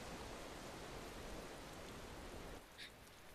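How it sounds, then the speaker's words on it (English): Steady, faint hiss of rain in the video game Tales of Berseria, a continuous wash of noise that thins slightly near the end with a brief higher chirp. "Of course it's raining."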